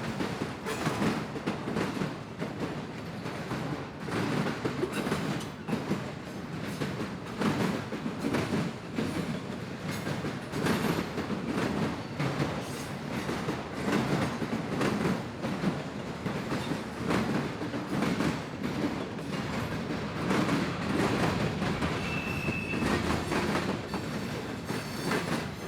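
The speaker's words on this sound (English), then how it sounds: "Oh, I do love some mixed freight." A long mixed freight train rolls steadily past, including a Conrail coil carrier and Grand Trunk cars, with continuous rumble, rhythmic clickety-clack of wheels over rail joints and a brief wheel squeal, loud and close throughout.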